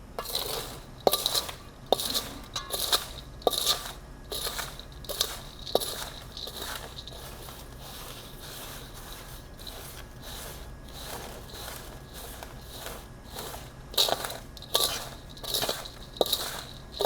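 Water being mixed by hand into a soil sample for a Proctor compaction test, giving repeated gritty crunching and scraping strokes in an irregular rhythm, close and moderately loud, with no talk.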